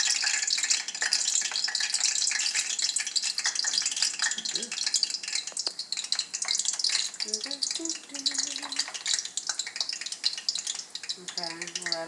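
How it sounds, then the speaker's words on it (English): Plantains frying in hot grease, a loud steady crackling sizzle that fills the whole stretch, with faint clinks and bubbling over it. "So, guys, so the grease is nice and hot. And we're now going to just go ahead and place the plantains in."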